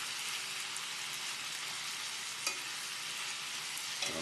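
Shrimp and mango sizzle steadily in hot oil while being stirred, with a constant hiss and a few faint clicks of a utensil against the pan.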